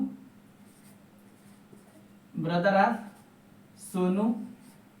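Writing on a board during a lesson gives a steady, faint scratching under a low hum, broken twice by short bursts of a voice speaking.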